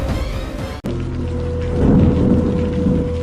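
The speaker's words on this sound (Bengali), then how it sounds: "সকাল থেকে একটানা টিপ টিপ বৃষ্টি পড়ছে।" Steady drizzling rain with a low rolling rumble of thunder, a continuous soft hiss that swells into a deeper, louder roll midway, briefly cut by a momentary dropout near the start.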